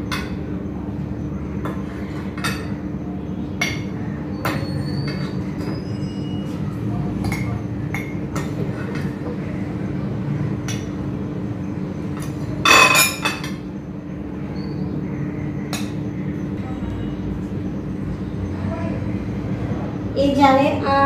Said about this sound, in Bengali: এখন আমি আমগুলো এই জারের মধ্যে ঢেলে দেব।